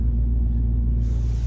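A Porsche diesel car engine idles steadily with a constant low rumble and even hum, close by and unbroken, with no talk over it.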